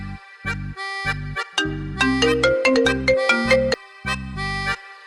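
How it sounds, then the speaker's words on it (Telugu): While someone calls out on a phone, a melodic ringtone plays loud and close. It has a sequence of sustained synthetic notes, some held and some quick and stepping, with no voices over it. "యామినికి కూడా చేద్దాం."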